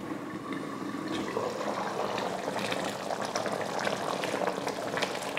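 Brinjal, drumstick and potato kara kulambu, a thick tamarind gravy, bubbling steadily in a pot, a dense close simmering hiss with small pops running continuously and alone.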